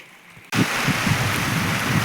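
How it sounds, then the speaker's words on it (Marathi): Steady heavy rain pours outside a farm shed, starting abruptly as a loud broadband hiss with soft low patter beneath, continuous and close, with no talking. "बाहेर चालू आहे पाऊस."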